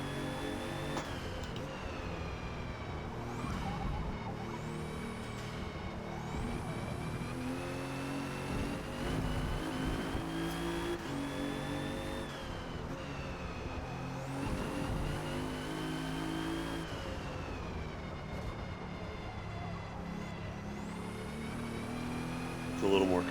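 A 2017 Alfa Romeo Giulia on the Mugello circuit in Forza Motorsport, its engine rising and falling through repeated revving surges as it accelerates out of corners, under ongoing talk.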